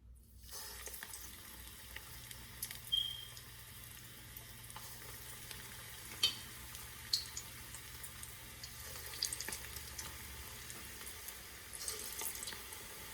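Bottle gourd kofta balls fry in oil over medium heat, giving a steady, soft sizzle that runs throughout, with a few faint clicks and pops and no talking.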